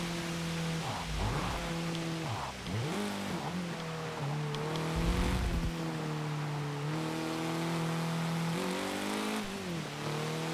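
Car engines race in Forza Motorsport 7 with a modern hot hatchback, a steady loud engine drone rising and falling through gear shifts, with brief low thumps and tire noise, no talking.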